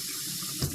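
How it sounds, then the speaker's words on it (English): Water runs steadily from a repaired kitchen faucet into the sink, a brief close hiss with no talking. "Water comes on."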